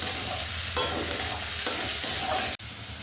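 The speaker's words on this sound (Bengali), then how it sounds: "এক চামচের মতো নুন দিয়ে এটাকে ভালো করে কষিয়ে নিতে হবে" Onion and tomato with salt frying in a pan for a lotte fish curry, a strong continuous sizzle punctuated by several stirring scrapes and a sudden cut near the end, no talking.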